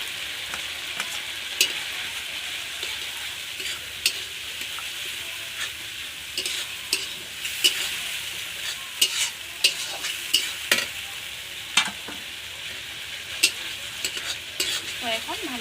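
Onion, cumin and dried chili paste sizzle steadily in a pan for a village-style chicken curry, with a constant frying hiss broken by frequent sharp spatula scrapes and taps as the mixture is stirred close up.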